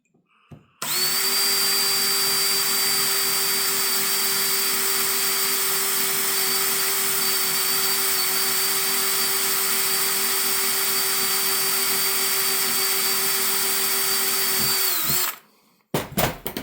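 A power drill bores holes into an engine piston, with a loud steady high whine that runs unbroken for about fourteen seconds. It then winds down abruptly, leaving short clatters.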